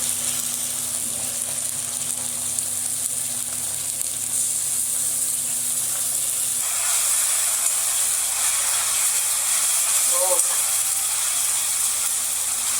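Onion, ginger and chili paste frying in a pan for a chicken curry, a steady loud sizzle with hissing steam that holds throughout and intensifies partway, with no voices.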